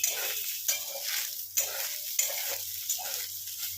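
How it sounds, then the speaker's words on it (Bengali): Soybean chunks frying in a pan for soyabean kosha, a steady close sizzle broken by rhythmic stirring scrapes roughly every half second. "এইভাবে আমি 2-3 মিনিট ভালো করে ভেজে"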